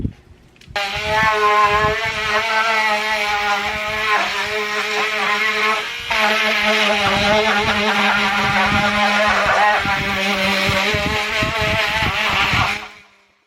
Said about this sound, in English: I'll go ahead and start sanding these shoes off